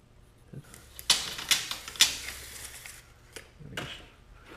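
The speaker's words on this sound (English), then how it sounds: "I'll just use the keyboard, okay." Rapid irregular clicks of a computer keyboard being typed on in a workshop during a front axle install, a few sharper keystrokes standing out, close and fairly quiet with no talking.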